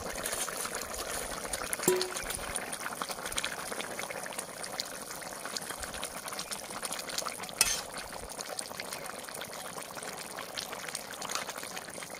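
Pond-raised rohu fish pieces go into a simmering curry gravy topped with ground cumin paste, a steady bubbling hiss that runs throughout, with a couple of brief clinks of utensils near the start and again later.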